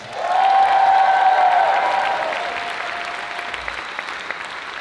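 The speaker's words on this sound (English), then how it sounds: "Can you give them a round of applause?" A theater audience applauds the backstage crew, a dense wash of clapping that swells quickly, holds, then slowly fades while still continuing, heard from within the hall.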